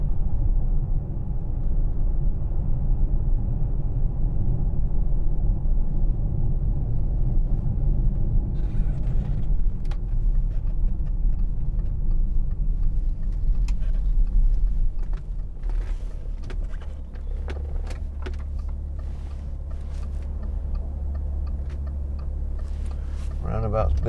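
A 2010 Audi Q7 3.0 TDI S line Tiptronic drives with a steady low engine and road rumble inside the cabin, its level dropping partway through, while someone talks over it throughout.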